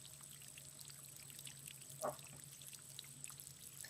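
Gentle flowing water plays as a faint, steady wash through the whole stretch, with one brief, slightly louder splash partway in; no one speaks.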